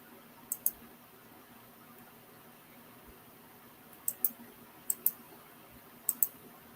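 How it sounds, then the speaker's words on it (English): A computer mouse clicks in small sharp pairs, close and crisp, with a couple of double clicks early and three more quick pairs later over faint room hiss. "You hear my clicking."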